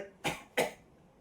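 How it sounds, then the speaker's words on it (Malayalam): Two sharp coughs about a third of a second apart, close to the microphone, followed by quiet. "ഇടയ്ക്ക് ചുമ വരുന്നേ"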